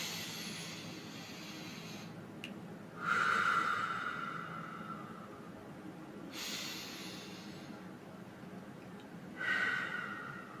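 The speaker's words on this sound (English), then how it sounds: "just take 5 deep breaths." Slow, deep breaths taken in a quiet room, each long hissing inhale or exhale swelling and fading with long gaps between, close and soft, with no talking during the breathing.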